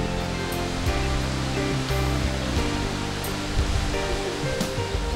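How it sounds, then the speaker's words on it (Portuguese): A waterfall in Chapada Diamantina drops from rocks nearly half a kilometre high, a constant, even roar of falling water with tonal music layered over it. "Pura energia brotando das pedras em forma de água a uma altura de quase meio quilômetro"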